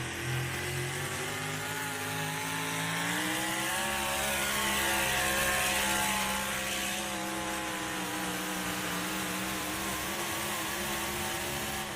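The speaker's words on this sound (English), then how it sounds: "hitting the rev limiter right there at the end" A drag racing car engine at a race event, a loud, sustained roar climbing steadily in pitch until it holds at a high buzzing rev limit, continuous and unbroken with no voices over it.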